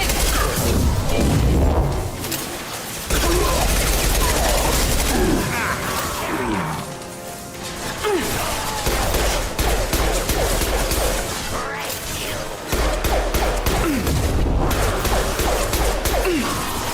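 Dense gunfire and crashing impacts fill a Mass Effect firefight on the hardest difficulty, a loud, nearly continuous barrage with bursts and whooshes, while voices shout over the combat.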